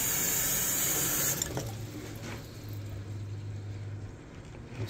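Water flushes down through a drain line on a plumbing service call, a loud running rush that cuts off abruptly, followed by a quieter gurgling drain with a low hum.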